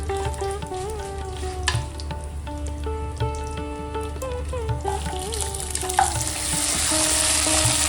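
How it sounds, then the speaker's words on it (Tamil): Whole small onions fry in a pan for Pallipalayam chicken, giving a loud, steady sizzle with occasional stirring clatter and a rising hiss near the end. No one speaks. "இப்போ வெங்காயம் இப்போ பொன்னிறமாக வதங்கி வரணும்"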